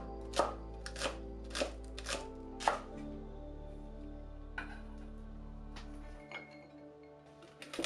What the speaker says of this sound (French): Détaillez de biais la partie blanche de la cébette, 5 mm d'épaisseur environ, et la partie verte en rondelles.